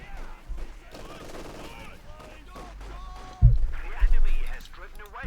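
Machine gun fire in the real-time strategy game Company of Heroes 2 crackles in short bursts, with heavier blasts near the end, while a commentator talks throughout.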